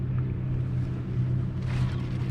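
Boat engines hum low and constant in the distance on a lake at a kayak bass fishing championship, a steady rumble with a brief brighter wash of water noise near the end.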